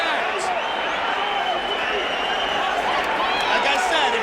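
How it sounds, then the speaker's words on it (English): A large arena crowd at a UFC mixed martial arts event roars and cheers continuously after a knockout, a dense, loud wall of sound with scattered whistles and shouts. "Listen to the crowd react."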